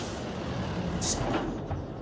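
A truck engine idles steadily in a farming video game set in the Azores, a constant low rumble with a brief hiss partway through, and a voice speaking over it.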